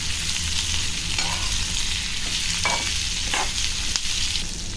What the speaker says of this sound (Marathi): छोट्या गॅसवरती चांगलं परतून घ्यायचं आणि नंतर मीडियम टू हाय करायचा गॅस।